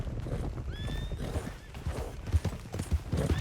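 A horse clip-clops at a gallop and gives a rising whinny while riding through Red Dead Redemption 2, with hoofbeats steady throughout and a loud neigh early on.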